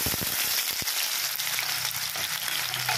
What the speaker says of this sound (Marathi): कांदा टाकलेला आहे, थोडा कांदा भाजून घेऊन मग टमाटर टाकायचे आपल्याला